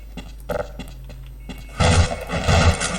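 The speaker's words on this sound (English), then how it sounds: "we need to shoot at this wall" In the Half-Life video game, gunfire hits a wall: a few sharp separate shots come first, then a dense, loud burst of rapid fire with impacts closes out the moment.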